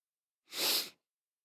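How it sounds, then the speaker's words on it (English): One short, sharp sneeze from a person watching the Chelsea versus Manchester City FA Cup final, a sudden close burst of breathy noise and then silence. "Did I sneeze?"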